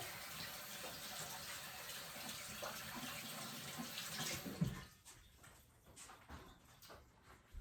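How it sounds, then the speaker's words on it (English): Hands being washed under a running kitchen tap, a steady splashing water stream that stops partway, leaving a few quieter drips and clinks. "I'm gonna wash my hands."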